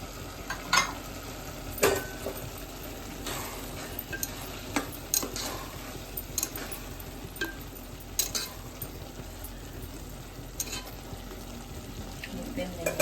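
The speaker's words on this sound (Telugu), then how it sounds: "మళ్ళీ కొంచెం నెయ్యి వేస్తున్నాను" Ghee goes into sweet pongal cooking in a pan, with a soft sizzle under repeated stirring and spoon scrapes against the metal, sharp clinks recurring irregularly over a low background hiss.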